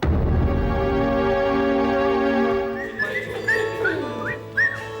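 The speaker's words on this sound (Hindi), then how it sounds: "बड़ी सीटियां बजा रहा है आज" A sustained droning tone gives way to a series of short rising whistles, several quick chirpy notes in a row, fairly close and clear.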